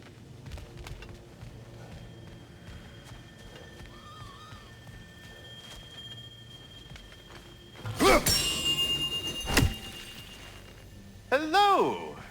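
Chimes ring out in God of War Ragnarok, bright metallic tones that come in bursts over quiet ambience. A loud cluster is followed by a short second burst near the end.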